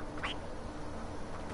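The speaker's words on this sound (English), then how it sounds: "It's a duck." Two short duck quacks from the Rayman Legends video game, one early and one at the end, over a steady game background hum.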